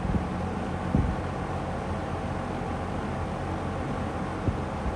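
Lakewood P-25 metal-blade electric fan running on medium, a steady broadband whoosh of moving air with a low rumble beneath, close and loud, with a few faint knocks.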